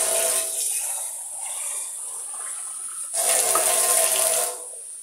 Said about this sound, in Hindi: बोतलें भरनी है।